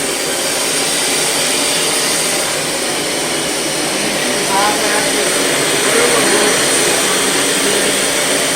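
A Dirt Devil Featherlight or Bissell ProHeat 2X Revolution upright cleaner makes a dry pass, a loud, steady whining motor roar with airflow hiss that holds constant throughout with only slight shifts in pitch.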